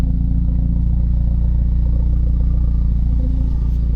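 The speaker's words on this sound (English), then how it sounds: "Hear the exhaust going." Engine and exhaust of a 2025 Hyundai Elantra N fitted with an upgraded intercooler, high-pressure fuel pump and blow-off valve, a loud, steady low rumble close by with little change in pitch.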